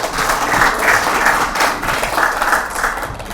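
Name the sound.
audience applause at a conference opening ceremony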